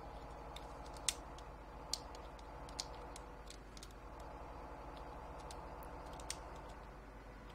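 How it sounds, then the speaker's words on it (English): Typing on a computer keyboard in a Farming Simulator 17 session: scattered soft key clicks with a few sharper taps, faint over a steady low engine hum. "Now he's typing."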